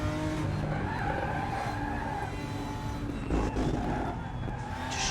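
A BMW M4 GT4 race car engine revs hard at the Nürburgring, a loud steady drone climbing in pitch, then dipping through a gear change before pulling up again, with faint tire noise.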